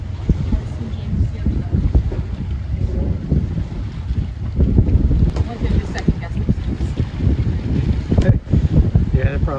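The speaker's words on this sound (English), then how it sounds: "Boys are going out on their little duck boat." A small duck boat heads out on the water near the Destin Bridge in Florida, its low engine rumble mixed with heavy wind buffeting and water noise, with talk over it.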